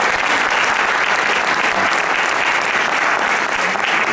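Sustained audience applause fills the room at an evening panel on French antisemitism, dense steady clapping from a large crowd with no voices over it.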